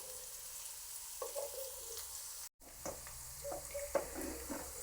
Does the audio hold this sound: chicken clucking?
no